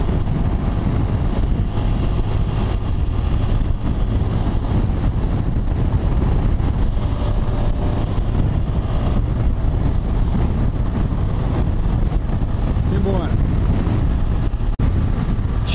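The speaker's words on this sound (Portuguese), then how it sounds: "o vento que tá aqui agora" Strong wind buffets the microphone in a loud, steady roar throughout, with low rumble like a vehicle moving at speed, heard during a motorcycle trip toward Brasília.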